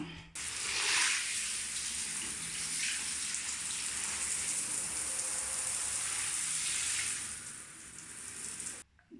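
Running water rinses out a bathtub being cleaned of yellow limescale stains, a continuous close rushing spray that holds steady for several seconds before cutting off, with no talking.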